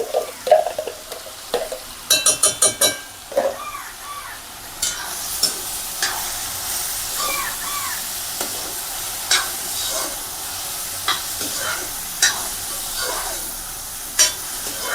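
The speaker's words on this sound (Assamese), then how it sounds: "আৰু এইটো ৰেডিছ ব্ৰাউন হোৱালৈকে অলপমান ভুনিব লাগিব, মানে ফ্ৰাই কৰিব লাগিব।" Pork stir-fried in a pan until reddish-brown, with a spatula scraping and clacking in rhythmic bursts, including a quick run of taps, over steady frying sizzle.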